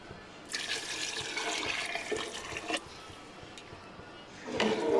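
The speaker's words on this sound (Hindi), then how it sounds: "हम इसमें 1 किलो चावल के हिसाब से 2 किलो पानी ऐड करेंगे।" Water poured into a cooking pot of fried masala for egg pulao, about two kilograms for a kilo of rice, a steady splashing gush lasting a couple of seconds, then a quieter pause and a second pour.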